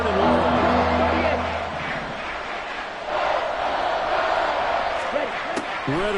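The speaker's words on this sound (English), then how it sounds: "This crowd turning up the decibel level" A loud football stadium crowd roars throughout a third-and-long play, a dense sustained wall of cheering with a brief dip midway, and a commentator's voice over it at the start.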